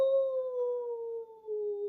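A storyteller's voice imitating howling wind gusting through a roof: a single sustained, smooth wavering tone that slowly slides downward over about two seconds, sung alone and close.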